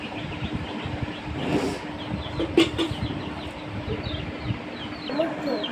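Young chicks peep faintly and intermittently outdoors while children and adults talk over them, with a steady low background hum.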